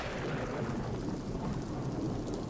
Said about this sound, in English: That is a full-on thunder and lightning storm.